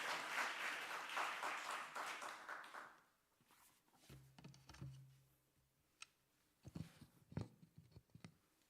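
Applause from a church congregation at an evening service, dense clapping filling the first three seconds and then dying away, followed by scattered thumps and small movement noises in a quieter room.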